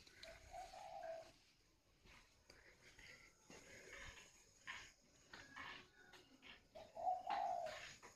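Spotted doves cooing in a few soft, mellow phrases at a moderate distance, with one call near the start and another near the end, over faint background hiss and occasional low murmur.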